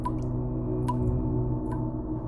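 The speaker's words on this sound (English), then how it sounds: "Dripping water echoing somewhere behind her." Water drips in a tunnel, three distinct hollow drops falling at roughly even spacing over a steady low rumbling background, each ringing briefly with a faint echo.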